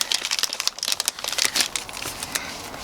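A plastic bag crinkles and rustles up close as silicone sealant is slipped inside during a camper kitchen build, with quick irregular crackling bursts and no speech.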